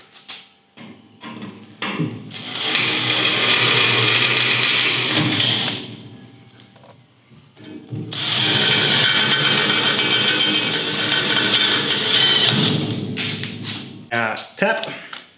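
Power drill whining in two long sustained bursts with short gaps, close by, drilling while fitting cladding to a homemade camper trailer, with some talking and tapping around them.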